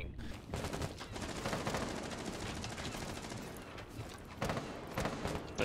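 Sustained rapid gunfire in Rainbow Six Siege blasts something open, a fairly quiet but dense rattle of repeated shots lasting several seconds, with voices faintly underneath.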